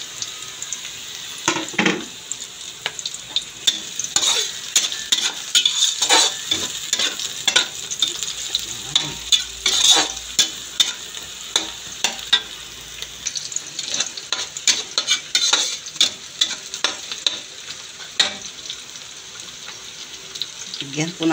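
Chili and bay leaves frying in a pan for spicy squid adobo, a sizzle broken by frequent clattering spoon stirs and scrapes, close and busy, with some running water.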